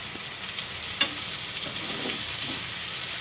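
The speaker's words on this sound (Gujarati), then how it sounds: "તો આપણે આને 2-3 મિનિટ તેલમાં ચડવા દીધું છે." Bitter gourd and onion frying in oil sizzle steadily and crackle close by, with faint stirring scrapes now and then beneath the even hiss.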